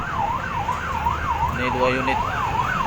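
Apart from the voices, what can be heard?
fire engine sirens from fire trucks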